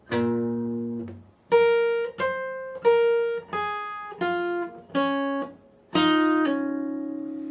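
Single electric guitar notes from a song's verse are picked slowly one after another, eight clear plucked tones with gaps between, played alone and ringing briefly.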